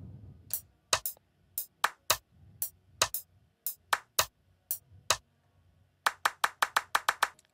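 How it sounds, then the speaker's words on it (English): A second rim sound in the drum beat of an Afrobeats track, crisp snapping hits in a syncopated pattern that speeds into a quick run of strikes near the end, loud and isolated. "And then a second rim."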